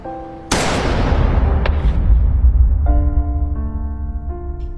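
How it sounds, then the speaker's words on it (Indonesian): A single sharp, loud gunshot from the Squid Game ending scene, cracking suddenly and then fading into a long rumbling decay as tense musical tones come in. "akhirnya frontman dengan teganya menembak adiknya sendiri"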